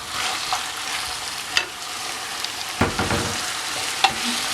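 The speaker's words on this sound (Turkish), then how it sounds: "jülyen şeklinde doğramış olduğum bir tane pırasımı da ilave edip pişmesini sağlayacağım" Julienned leek fries in a pan with chicken and vegetables for noodles, giving a steady soft sizzle broken by a few sharp scrapes and clatters of stirring.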